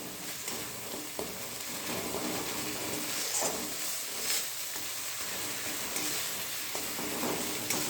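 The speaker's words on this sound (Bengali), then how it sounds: "নুন, হলুদ, লঙ্কার গুঁড়ো আর সামান্য জিরের গুঁড়ো দিয়ে এবার মশলাটা আমি ভালো করে কষিয়ে নেব" Salt, turmeric, chilli powder and a little cumin powder fry in oil while being stirred, a continuous close sizzle with soft hissing and occasional scraping, steady throughout.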